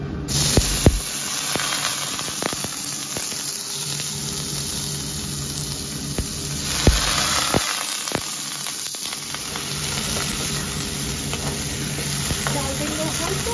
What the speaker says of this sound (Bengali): জোয়ার চালটা যে আমি দইয়া রাখছিলাম, এটা আমি এখন এই ঘির মধ্যে ভাজা করব।